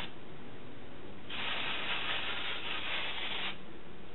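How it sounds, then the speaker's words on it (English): A soft hiss of an aerosol spray bursts on for about two seconds, then cuts off, against a quiet background. "I also wanted to show you how to spray the temporary hair color on the wig."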